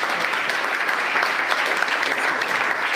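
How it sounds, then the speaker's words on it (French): Steady, dense applause from a church congregation fills the space, evenly sustained from start to finish with no voice rising above it. "Applaudissez pour vous-même maintenant."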